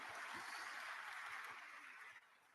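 A conference audience at the CTBT Science and Technology Conference gives a round of applause, a faint, distant clatter of clapping that holds steady and then tapers off toward the end.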